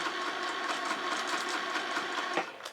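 A sewing machine stitches a quarter inch seam in quilt piecing, a steady, even whir close by that continues for a few seconds before easing off.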